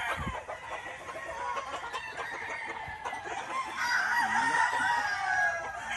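Class A Super Sweater gamefowl rooster crowing and clucking at a game farm, loud and close, with repeated calls and rising crows over light background noise.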